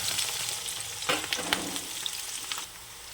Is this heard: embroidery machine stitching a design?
no